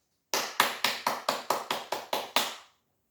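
About nine sharp, evenly spaced claps ring out close and clear in a quiet church during an early-morning worship service, then stop and leave silence.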